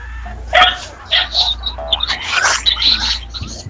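A small dog lets out several short yips and barks in uneven bursts, close by and fairly loud, mixed with a low hum and some background clatter.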